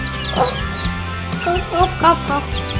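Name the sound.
baby chickens peeping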